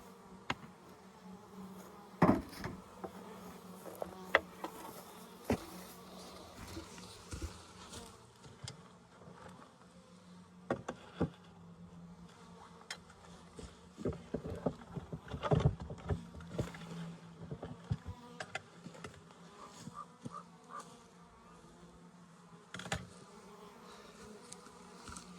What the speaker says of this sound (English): Pretty good number of bees in there.